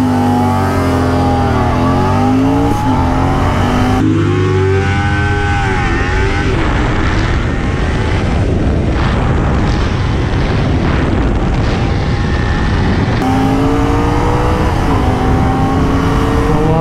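Loud engines of a Kawasaki Ninja 300 and a Royal Enfield Continental GT 650 rev and roar as the bikes race and accelerate hard, the pitch climbing and shifting through gears, continuous and close.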